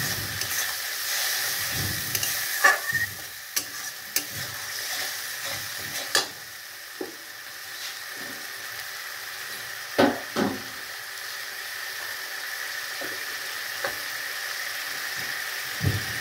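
Fish curry with mustard paste frying in a pan, a steady hiss of sizzling oil broken by the repeated scrape and knock of a spoon stirring, close and clear with no talking.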